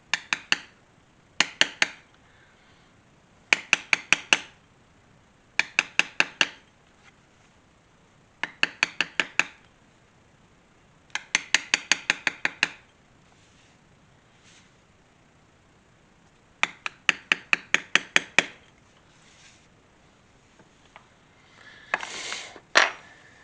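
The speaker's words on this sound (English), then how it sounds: "you just turn your beveling stamp over and face it toward the inside" A metal beveling stamp is struck repeatedly with a mallet while tooling the inside of the lines of a pirate cuff design in leather, sharp taps coming in quick clusters of five to ten separated by short pauses.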